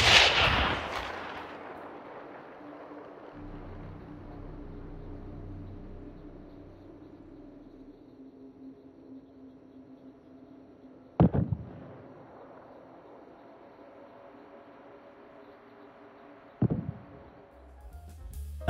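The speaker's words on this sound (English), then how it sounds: "gunshots can be heard all the way across the map, depending on the weapon" Gunshots in the Hunt: Showdown video game heard at a distance: a rumbling boom at the start followed by two sharp, separate reports with echoing tails, spaced several seconds apart against a quiet background.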